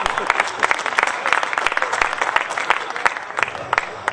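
Dense, steady applause from a seated audience at an Urdu poetry recital, many hands clapping continuously and fairly close with no voices on top.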